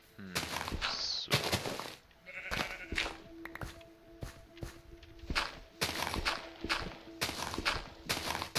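Sheep bleating in a Minecraft FTB Ultimate modpack game, short repeated bleats mixed with clip-clop footsteps and blocky game sound effects, fairly close and clear.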